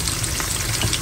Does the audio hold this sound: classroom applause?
no